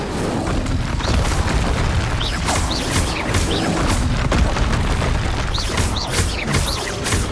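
Repeated Confringo blasting-spell explosions in Hogwarts Legacy, a steady stream of loud booming bursts over continuous rumbling combat noise.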